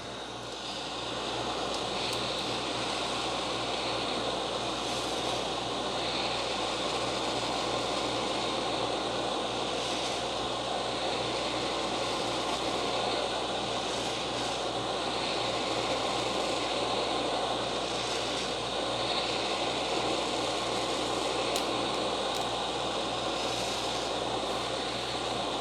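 A heat gun blowing hot air while a corroded Cybiko Xtreme handheld is repaired, a continuous loud whooshing roar of fan and airflow, steady and unbroken throughout.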